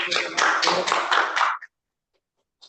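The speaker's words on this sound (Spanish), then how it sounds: "podemos aplaudir en vivo y en directo" A few people clap live over a video call, a quick run of about seven close, crisp claps lasting a second and a half before cutting to silence, with a faint bit of voice at the end.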